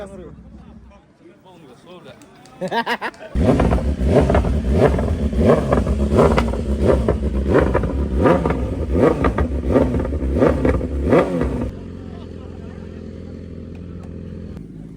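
Loud superbike engines rev repeatedly in rising and falling bursts at a bikers' meet in Shillong, close by, then cut to a steadier idle with voices in the background.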